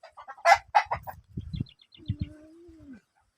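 Chickens cluck near a rural Philippine vegetable garden, a cluster of short, loud clucks up front followed by lower calls and a drawn-out rising squawk, with no talk over them.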